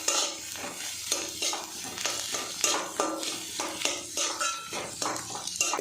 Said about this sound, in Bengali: একসঙ্গে ভালো করে মিশিয়ে নেব